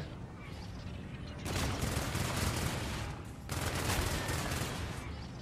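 Rapid automatic gunfire during a video game boss fight, two sustained bursts of dense crackling shots separated by a short lull, loud and close with no talk.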